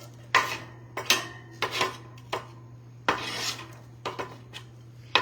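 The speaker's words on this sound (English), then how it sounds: "I'm gonna go ahead and scoop these onions right in" Onions scooped from a bowl into a sautéed pan with a utensil, giving a series of close scraping and clinking strokes, about eight distinct scoops over a steady low hum, with no talking.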